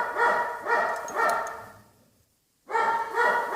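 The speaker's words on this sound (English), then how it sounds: "we've got Wesley barking again now" A dog barks repeatedly in quick bursts, fairly close, pauses briefly in silence, then resumes barking; no talking.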